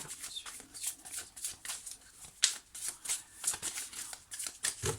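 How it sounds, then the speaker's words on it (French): Tarot cards cut and shuffled by hand at close range: a steady run of soft riffling and snapping card noises in irregular bursts, quiet and without talk. "Je coupe et je prends les cartes émotionnelles."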